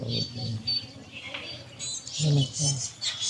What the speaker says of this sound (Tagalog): Daming ibon. Ayun, oh, daming ibon sa taas.